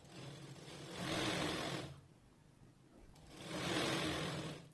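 A sewing machine runs in two sustained bursts stitching a blouse, a steady close whirring hum that swells and fades with a quiet pause between the runs.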